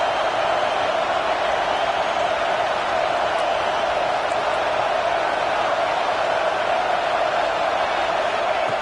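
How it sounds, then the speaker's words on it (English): A college football video game plays a stadium crowd at Nebraska as a steady, dense roar that holds at an even level throughout, with no distinct cheers or voices standing out. "Listen to the crowd energy here in the early going."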